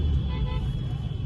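Heavy road traffic on a bridge in Agra, a dense low rumble of car and truck engines held steady and close throughout, with a voice speaking over it.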